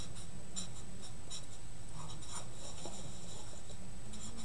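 A red marker writing addition problems on a surface, with close, rhythmic squeaky strokes and short pauses between them, no talk.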